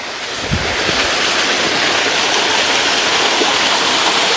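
Clean water pours down a waterfall about six metres high into a stream on a rural property in Brazil, a loud, steady rushing roar that fills the whole stretch with no voices.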